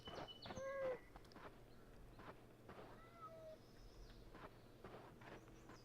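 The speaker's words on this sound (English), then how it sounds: "I heard the meow." A cat meows faintly in the video game Lifeless Moon, a short rising call early on and another brief mew a couple of seconds later, over a quiet ambient background with soft footsteps.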